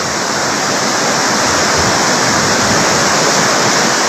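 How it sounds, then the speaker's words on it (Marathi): Heavy floodwater pouring out of a discharge in farmland, a loud, unbroken roaring rush close by with no voices. "आताही पाण्याचा विसर्ग भरपूर आहे"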